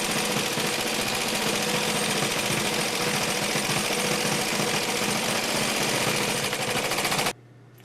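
OmniStitch 2 sewing machine stitching zigzags in a continuous fast needle rattle, close and steady for about seven seconds before stopping abruptly, leaving a low hum.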